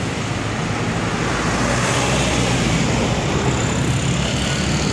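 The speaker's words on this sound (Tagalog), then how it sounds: "Traffic na naman, Dabarkads." Steady road traffic in Baguio, a dense continuous wash of engine rumble and tyre noise from passing and idling vehicles, loud and close with no break.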